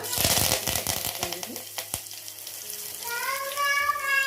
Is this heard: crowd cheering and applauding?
no